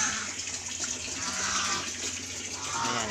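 Water running steadily from a tap and filling a container on a rural pig farm, a constant close splashing rush with a low hum beneath and faint background sounds.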